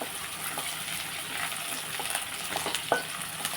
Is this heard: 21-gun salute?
no